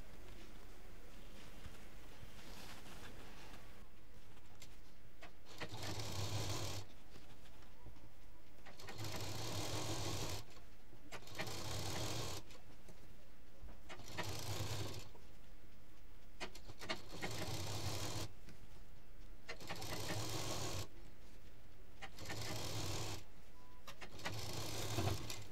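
A sewing machine stitches the folded edge of fabric in repeated bursts, each a loud whirring run of a second or two separated by short pauses, close and steady over a long stretch with no talk.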